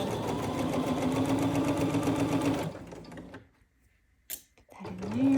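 A sewing machine runs steadily for about two and a half seconds, stitching a short back stitch on a quilt, then stops; a brief click and a faint low voice follow in the quiet.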